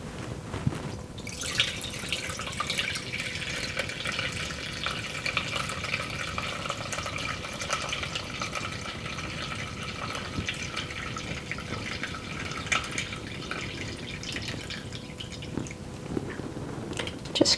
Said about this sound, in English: And now what I'm going to do is pour it through the sieve.